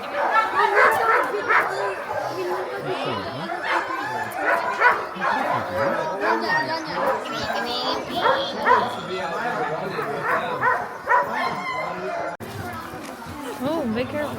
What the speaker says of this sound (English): we got the prettiest puppy